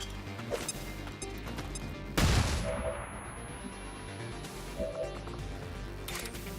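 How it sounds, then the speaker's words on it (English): A flashbang grenade goes off in XCOM 2 with one sharp, loud crack that fades into a long, ringing decay over a steady game background. "Let's go ahead and flashbang."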